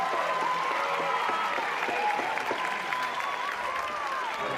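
A sellout crowd of 957 fills Melissa Cook Stadium for the ACC softball championship game between Duke and Florida State, applauding steadily and loudly, the clapping dense and sustained, with crowd noise and no clear speech.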